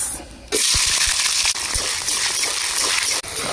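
Chopped onions tipped into hot oil already holding cumin seeds, dried red chilies and bay leaves, bursting into a loud, steady, close sizzle that starts abruptly and holds with slight dips.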